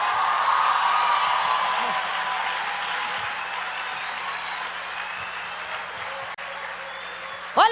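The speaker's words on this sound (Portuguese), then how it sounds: "Se é para aplaudir, aplaude tudo junto." A church congregation claps together in a large hall, a broad sustained burst of applause that gradually thins while a voice speaks over it.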